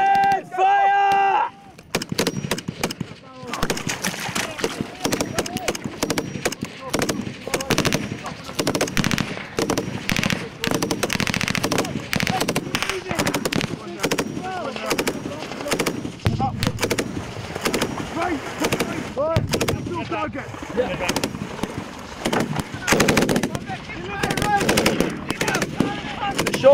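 Loud, sustained live-fire gunfire from an infantry attack exercise, with rapid machine-gun bursts and single shots cracking almost continuously outdoors, while people shout over the shooting.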